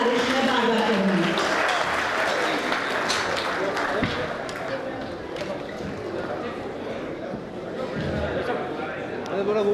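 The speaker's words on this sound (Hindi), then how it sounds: "आप सभी की तालियों की कड़कड़ाहट की गुजारिश मैं बार-बार करूंगी" Audience applause at a Porwal community oath-taking ceremony in 2025, a dense, steady clatter of many hands filling the hall throughout, with voices and crowd chatter mixed underneath.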